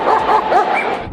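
A police dog gives loud, close yipping barks and whimpers in one unbroken excited run, with no talk over it.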